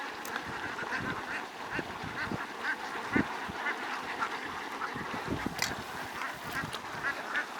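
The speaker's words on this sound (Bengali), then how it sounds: "এই দেখেন হাঁস।" Ducks quack repeatedly beside muddy water, a steady chorus of nasal calls with some louder, nearer honks breaking through, heard without speech.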